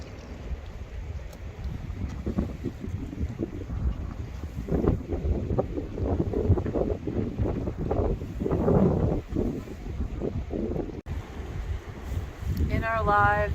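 Cold, gusty wind buffets the microphone on the coast at Bandon, Oregon, a steady broadband roar with surging gusts throughout and brief faint voices in the background.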